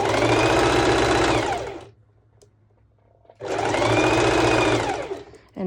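Sewing machine stitching fabric slowly with the needle down, a loud close mechanical whir running in two bursts separated by a quiet pause, then starting again briefly at the end.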